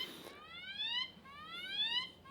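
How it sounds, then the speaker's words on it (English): A Samsung Galaxy Watch Ultra sounds its SOS siren alarm: two loud, close rising electronic sweeps in quick succession, with nothing else heard. "That's the siren"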